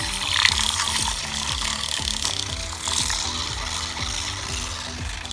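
An electric whisk whirs steadily in a bowl of milk being frothed for a latte, a close, continuous mechanical buzz with a rhythmic ticking pulse throughout.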